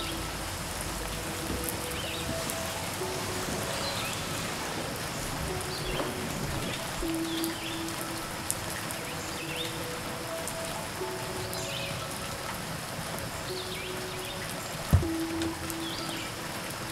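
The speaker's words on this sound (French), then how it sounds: "La pluie devient plus forte et tu te mets à l'abri juste à temps." Heavy rain falls steadily outdoors by a river, a dense even hiss of drops on surfaces with no voices, and one sharp knock late on.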